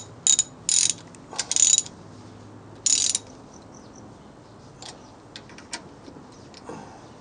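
Ratchet wrench tightening the fasteners on a new metal throttle of a 48cc Chinese motorized bicycle: a few short, bright bursts of clicking in the first three seconds, then faint scattered ticks in a quiet room.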